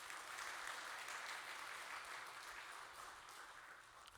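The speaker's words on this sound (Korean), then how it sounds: "우리 하나님께 감사의 박수 올려드리겠습니다." A church congregation claps together in thanks during a worship service, a steady, dense wash of applause that holds evenly and tapers slightly toward the end, with no voices over it.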